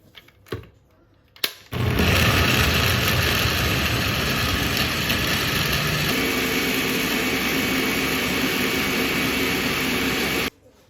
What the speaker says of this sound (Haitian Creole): quand nous allons blender tout le bagage ensemble